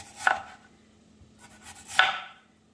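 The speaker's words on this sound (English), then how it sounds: "You're going to take your potato, hold it, and I'm going to cut these very thin on an angle." A knife cuts thin angled slices of potato on a cutting board, giving two distinct crisp chops about a second and a half apart, close and fairly loud with a quiet pause between them.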